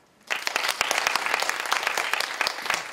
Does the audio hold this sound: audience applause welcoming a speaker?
yes